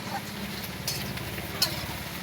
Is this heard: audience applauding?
no